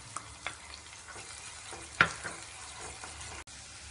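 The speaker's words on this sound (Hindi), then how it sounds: "थोड़ा चला करके हमने अदरक और लहसुन का पेस्ट इसके अंदर डाल देना है" A spoon scrapes and stirs through ginger-garlic paste frying in a pan, producing soft intermittent clinks and one sharper knock over a low, steady sizzle.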